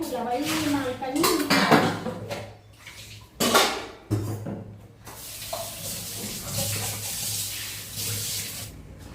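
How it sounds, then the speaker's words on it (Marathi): Pots, pans and dishes clatter and clank at a home kitchen sink as they are set to soak, with running water splashing, and someone talks over the loud, uneven clatter. "सगळे भांडी भिजवून घेते आधी."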